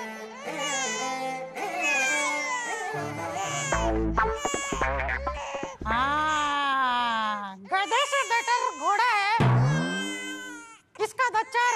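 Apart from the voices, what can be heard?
baby crying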